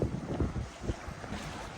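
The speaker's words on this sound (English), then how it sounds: "Standing in this little shelter to get out of the wind for a little bit because it is flipping cold." Cold wind at Taughannock Falls buffeting the microphone, a low rumbling roar with gusty swells, close and steady, with no talk.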